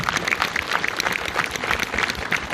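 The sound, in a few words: audience applauding actor Laurent Baffy at a film premiere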